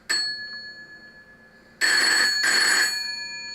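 An old telephone's mechanical bell rings in a shed: one short ring, then two close, loud bursts of bright metallic jangling with a brief gap between them.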